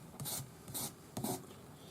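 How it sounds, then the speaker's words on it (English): Fine abrasive paper on a sanding stick, 400 grade, rubbing over the joins of a metal crossover ring, giving three short, close raspy strokes in a steady back-and-forth rhythm with quiet gaps between. "Use your 400 grade paper on your sanding stick."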